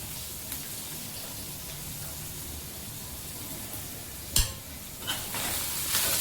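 Chopped onion dropped into hot oil with asafoetida for a mung bean curry, giving a steady low frying hiss with a sharp crackle burst midway and brighter sizzle toward the end, no talking.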